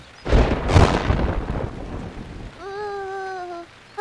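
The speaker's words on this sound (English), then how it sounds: "Oh, that lightning came really close" Cartoon thunderstorm: a loud, close thunder crack rolls and rumbles over heavy rain for about two seconds, then fades under steady rainfall, followed by a brief wavering tonal sound near the end.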